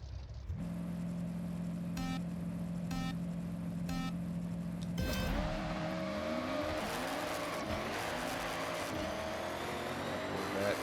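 A car in Forza Horizon 6 with wider tires, more horsepower and lowered suspension, countdown beeps over an idling engine, then a loud launch with revving and wheelspin that climbs steadily in pitch.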